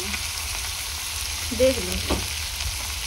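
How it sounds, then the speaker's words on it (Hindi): Green chillies and tomatoes sizzling steadily in oil in a pan for sev bhaji, a loud continuous frying hiss with brief stirring, while a voice speaks a few words. "अब इसमें हम डाल देते हैं हमारी हरी मिर्च और टमाटर"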